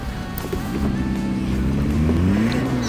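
A Renault Twingo's engine strains and revs steadily as the car climbs a slope. The drone is continuous and close, with the pitch rising slightly toward the end. No voices are heard.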